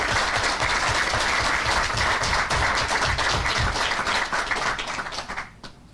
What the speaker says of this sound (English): I would kindly request that we give him a round of applause